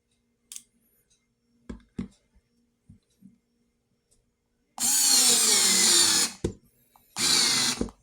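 An Ingco cordless screwdriver strains to drive a large non-wood screw: a few scattered clicks and taps, then a loud, sustained motor whir of about a second and a half, a short gap, and a second whirring burst.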